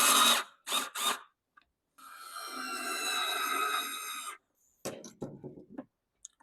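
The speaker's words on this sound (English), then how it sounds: "I'm just going to run some screws into the wood and space it out with some washers." A power drill drives screws into wood, a sustained whirring run of a few seconds between short bursts of drilling and clicking, close and fairly quiet.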